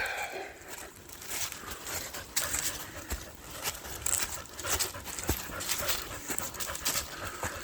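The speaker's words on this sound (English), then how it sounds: "You can hear Luther breathing heavily" A dog pants heavily and rapidly nearby, with rustling footsteps and scuffing on the ground underneath.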